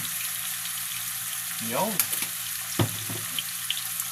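Food cooking in a pan being stirred, a continuous sizzle with a few scraping and clinking utensil sounds, and a brief voice murmur in the middle.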